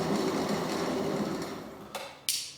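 A 7 1/4 gauge model locomotive runs with its ignition switched on, giving a steady mechanical whir and rattle that fades slightly before two sharp clicks near the end.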